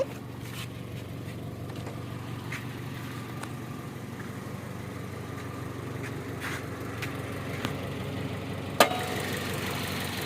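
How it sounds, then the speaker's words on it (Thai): A car engine idling in its engine bay in the evening, a steady low running hum with faint ticking and a single sharp click near the end. "เครื่องเดินนะครับ"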